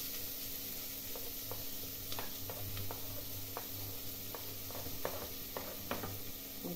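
Chopped onion frying in a pan over browned ground beef for an okra and jiló dish, a soft steady sizzle and hiss with scattered light crackles and occasional faint scrapes, fairly quiet throughout.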